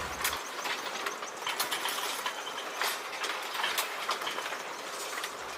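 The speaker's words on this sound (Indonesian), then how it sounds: "Ternyata lokomotif Dema nomor 7 membawa rangkaian lori kosong yang sangat panjang teman-teman." Dema No. 7 sugarcane railway locomotive hauling a very long string of empty cane wagons at PG Wringin Anom, with steady rattling wheel clatter and clanking couplings throughout, fairly loud and close, no voices.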